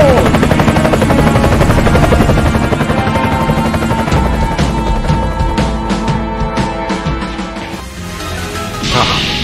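Helicopter in a game scene, a loud, close rotor thumping in a fast steady beat that slowly fades, with a few sharp crashes mixed in.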